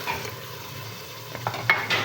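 Minced keema with tomatoes frying and being stirred in a pan, a steady soft sizzle with a few scraping stirs and light utensil clinks near the end, no talking.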